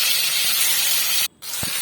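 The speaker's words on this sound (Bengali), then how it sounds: "তেলটা আমার ভালোভাবে গরম হয়ে গেছে প্রথমে আমি মাছটা একে একে দিয়ে দিলাম" Steady, loud sizzling hiss of bele fish pieces dropped one by one into hot oil in a kadai, with a brief lull partway through before the frying crackle resumes; no talking.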